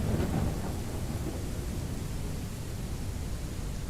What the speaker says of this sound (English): it just seemed to rain a frig lot in this game